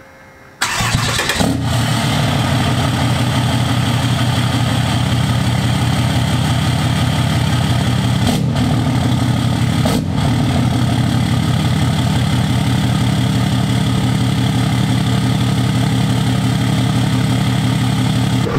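A Cummins diesel engine in a Mega Cab pickup cranks and starts, then idles steadily with a loud, rough, rumbling drone that continues unbroken.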